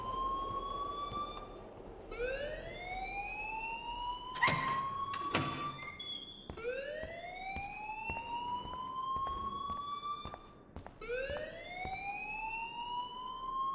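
In the video game Life is Strange, an electronic alarm wails in repeated rising sweeps, each climbing whoop about two seconds long. A brief burst of clatter comes partway through, and the siren cycles on steadily at moderate loudness.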